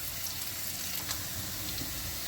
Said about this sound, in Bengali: আলুগুলো একটু ভাজা হবে।